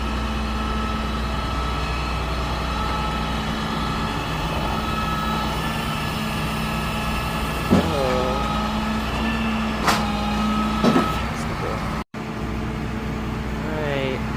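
A tow truck engine idles steadily while its ramp is lifted with a Tesla Cybertruck loaded, a constant low drone with a few brief mechanical squeals and clunks partway through.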